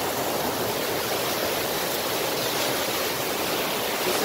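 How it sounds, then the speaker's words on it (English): Waterfalls pour into natural rock pools at a hotel, a steady, loud, broadband rush of falling water with no break, heard close and alone without any voices. "It just goes on and on with these beautiful pools and waterfalls."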